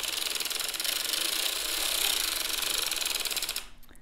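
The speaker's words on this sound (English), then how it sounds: "then turn on your row counter, reset it, and crank 50 rows" A hand-cranked sock knitting machine runs in a steady, rapid mechanical clatter of needles, close and even for several seconds before the cranking stops and the noise drops away.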